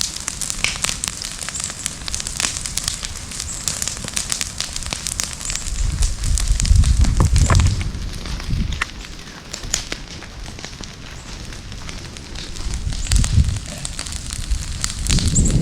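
A large outdoor fire burns on a farm in Camarines Norte, Philippines. It gives a steady, loud roar with dense crackling and popping throughout, and the low rumble swells at moments.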